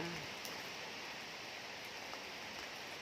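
Soft, steady rain falling outdoors during a sunshower in Thailand, a faint, even hiss of drops on surfaces that holds without a break, quiet and diffuse, with no distinct voices.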